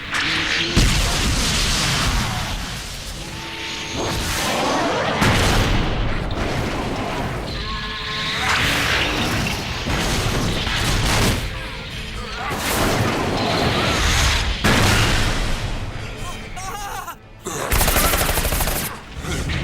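Rocket blasts and gunfire effects crash through an animated anime battle, dense explosive bursts and rattling shots piling up continuously for about twenty seconds with brief gaps, loud and close over music-like tones.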